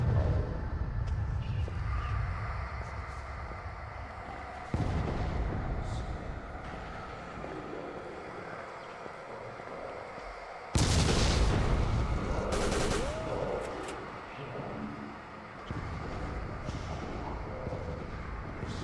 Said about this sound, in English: Must be below me, trying to shoot through the floor.